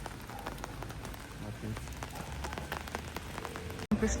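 Steady rain pattering on surfaces in a Prague street, a continuous close hiss of drops that runs unbroken, with a faint voice low in the mix.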